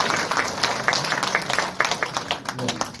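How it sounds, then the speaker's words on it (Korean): Applause from the audience at a book relaunch event for a memoir, steady dense clapping throughout with individual claps popping out, with faint voices underneath. "다시 한번 박수 부탁드리겠습니다"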